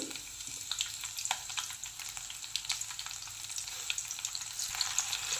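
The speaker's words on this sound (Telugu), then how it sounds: "ఆయిల్ వేడైన తర్వాత అందులో ఆవాలు, జీలకర్ర, మన ఆవాలు జీలకర్ర బాగా వేగేయండి" Mustard seeds and cumin crackle in hot oil in a kadai while stuffed brinjal curry is being made, a continuous fairly quiet sizzle peppered with many small sharp pops.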